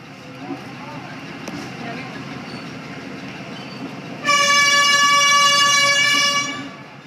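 Steady train rumble under a voice on the Maymyo–Mandalay railway in Burma, then a loud, sustained horn blast cuts in for about two seconds before fading.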